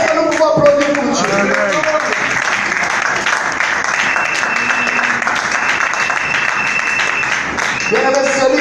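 A church congregation applauds steadily and loudly for several seconds during a sermon, with voices calling out over the clapping.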